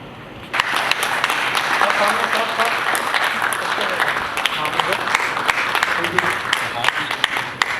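Thunderous audience applause at a cooperative-sector gathering in India, bursting in after a brief quiet moment and continuing as loud, dense clapping from a large crowd, with a few sharper individual claps standing out.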